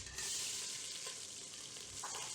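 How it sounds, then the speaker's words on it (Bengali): Whole spices including garam masala, bay leaf and dried red chillies crackle in hot oil for Bengali khichuri, a loud, steady close-up sizzle with faint stirring taps, uninterrupted by voices. "এটা একটু গরম তেলে খুব তাড়াতাড়ি ভেজে উঠবে"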